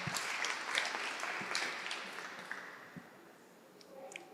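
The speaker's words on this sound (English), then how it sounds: "Round of applause for that one." An audience at a fashion talk with a designer and color theorist claps together in steady, moderately distant applause that gradually thins out and fades.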